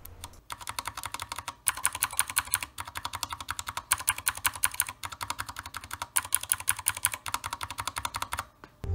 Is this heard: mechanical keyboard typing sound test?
yes